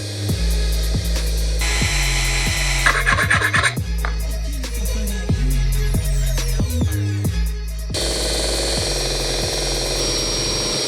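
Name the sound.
power tool grinding a costume part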